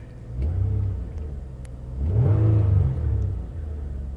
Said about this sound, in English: let's hop inside, maybe rev her up a little bit, get the neighbors excited.